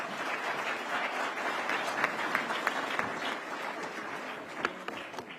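An audience at a police community relations awards ceremony gives a warm round of applause, steady dense clapping filling the hall for several seconds with a few sharper claps standing out.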